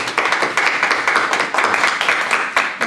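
Church congregation members clap in a close, crisp patter of individual hand claps, irregular and fairly loud, rather than a broad roar.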